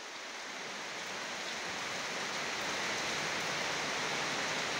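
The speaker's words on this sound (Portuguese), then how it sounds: "A água tá caindo com pressão." Heavy rain pours down in Ji-Paraná, Rondônia, a dense, steady hiss of water that swells slightly louder and continues evenly throughout with no voices.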